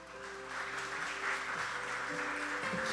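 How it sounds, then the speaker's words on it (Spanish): A church congregation claps together as music plays, a sustained wash of applause over held organ or keyboard tones, fairly even in loudness throughout. "Dale un fuerte aplauso al Señor"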